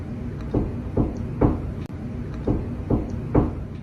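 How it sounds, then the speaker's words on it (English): Knocks land on a bedroom door in two slow, evenly spaced sets of three, each a dull, fairly close thud with a short pause between the groups and no voices. "From the other side of her bedroom door came the unmistakable sound of knocking."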